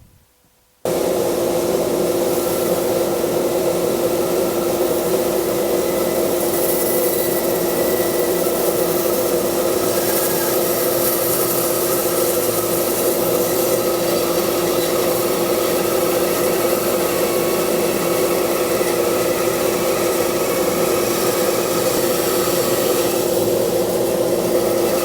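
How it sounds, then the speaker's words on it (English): A saw cutting through a wooden board while building a seat runs as a loud, continuous steady whine from start to finish, alone without talk, starting abruptly after a brief silent moment. "we'll start with board number 4 and we'll make the cut."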